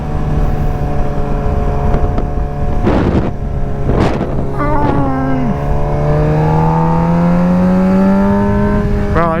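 A Suzuki Gixxer 750 motorcycle engine pulls hard under acceleration, its loud tone climbing steadily through the revs, with wind rush over the microphone and brief bursts of noise.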